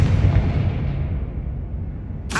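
A Confringo blasting-spell explosion in a Hogwarts video game: a deep, booming burst already sounding at the start that rumbles and slowly fades, followed by a brief sharp crack at the very end.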